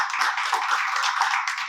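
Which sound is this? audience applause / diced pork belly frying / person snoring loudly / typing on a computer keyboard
audience applause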